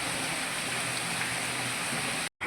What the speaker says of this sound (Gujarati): વરસાદ તો ભાઈ આવવા વાળો આવ્યો